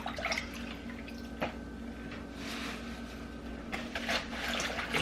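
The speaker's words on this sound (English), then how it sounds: "you want enough water in there to agitate it" Garden produce swished around in a water-filled sink, giving close, steady sloshing with scattered drips and splashes, no talking.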